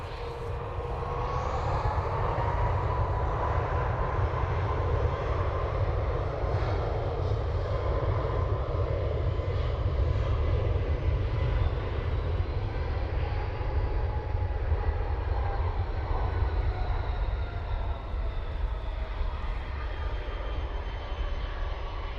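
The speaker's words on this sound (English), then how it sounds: "The next Ryanair is off to Leeds, and then we have a VizJet Challenger 605 off to Tenerife." Steady, loud jet engine roar from departing aircraft at Dublin Airport, a Ryanair jet and a Challenger 605 business jet, rumbling continuously throughout with a broad low-frequency drone and slowly shifting whine, no talk.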